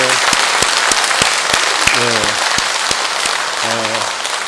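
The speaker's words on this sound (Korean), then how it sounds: "자, 다시 한번 이들 환영의 박수를 먼저 합시다" A Catholic church congregation in Jeju claps loudly and steadily to welcome visitors, with a voice speaking briefly over the applause.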